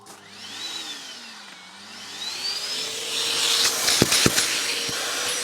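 Vacuum suction inside a mobile detailing van, a steady whining drone that rises in pitch and grows louder, with a few sharp clicks and knocks near the end.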